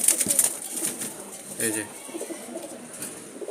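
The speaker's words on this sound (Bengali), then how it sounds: "এই যে কবুতরটা ছেড়ে দেখাচ্ছি আর কি" A male wild Jalali pigeon from Dhaka is released from the hand, giving soft coos and a brief flutter of wings close by while someone speaks over it.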